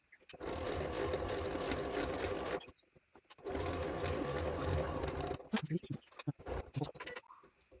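A sewing machine stitching a round bag made from placemats, running in two long, steady, rapid bursts separated by a short pause, followed by a few brief stop-start stitches, close and clear with no talking.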